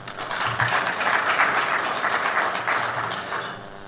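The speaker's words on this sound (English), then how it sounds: "A round of applause, please." Applause from an audience at a stock exchange bell-ringing ceremony for the CIMERWA PLC listing on the Rwanda Stock Exchange, a steady wash of clapping that holds for several seconds at a moderate distance.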